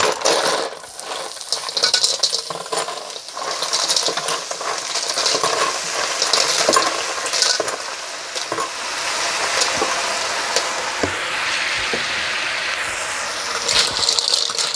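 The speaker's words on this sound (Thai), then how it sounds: "พริกเหลืองแล้วใส่หอยลงไป" Clams being stir-fried with pounded yellow chili in a pan for a homestyle Thai dish, giving a steady sizzle with scraping and shell rattles from stirring, close and continuous with no talking.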